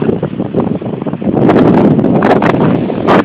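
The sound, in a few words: strong wind at Cocoa Beach, Florida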